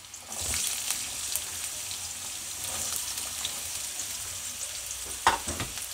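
Onion and carrot fry in a pan with ginger garlic paste, a steady close sizzle broken by a few stirring scrapes and clacks, one louder near the end, with no talking.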